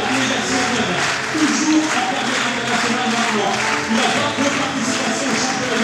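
A crowd applauds a table tennis legend at the 2014 ITTF Legends Tour, a dense, continuous wash of clapping that stays steady throughout while voices talk over it.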